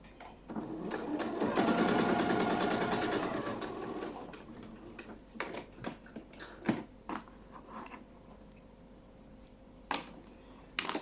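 A sewing machine stitches scrap fabric for a quilted shopping bag, a fast whirring run of stitches for about three seconds followed by scattered clicks and taps of handling, with no talking.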